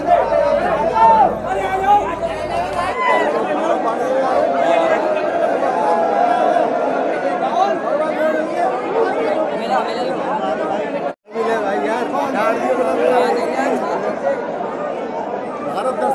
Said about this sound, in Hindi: सामने आप देख रहे हैं लोगों की भीड़ वहाँ हुरंगा खेलने के लिए